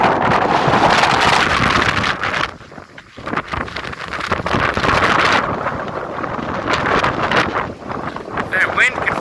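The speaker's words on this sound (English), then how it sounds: "If that wind could fuck right off real quick, that'd be great." Gusty wind buffets the microphone outdoors on a day out in Phoenix, a loud, rumbling roar that barely lets up, dipping briefly before surging back for the rest of the stretch.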